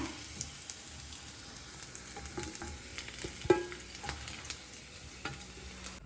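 Potatoes coated in batter fry in oil in a pan, a faint continuous sizzle with occasional soft stirring scrapes and one small clink, with no talking.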